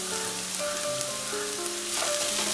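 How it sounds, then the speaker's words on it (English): Onions frying in a pan for a potato curry, a steady soft sizzle running evenly throughout with faint stirring and no talk. "Fry the onions till they change their color lightly."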